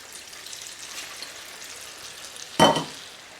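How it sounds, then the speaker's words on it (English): Masala fish chips frying in hot oil, a faint steady sizzle that breaks into a sudden loud burst of crackling and bubbling near the end, then eases back. "the chips has been frying for about 8 to 10 minutes now"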